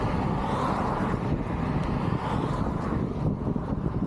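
A strong headwind roars across the microphone while cycling, a steady broadband rush of buffeting air that stays loud and unbroken throughout.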